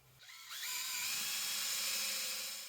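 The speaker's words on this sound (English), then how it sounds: "I'm going to pre-drill some holes" A power drill spins up and pre-drills holes for a mold being built for an epoxy chess board, its motor whining up in pitch and then holding a steady high whir up close.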